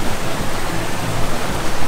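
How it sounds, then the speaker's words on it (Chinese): Qingyue waterfall roars in a steady, loud, unbroken wash of falling water, a dense broadband rush close by with no voices over it. "我们到了清月瀑布"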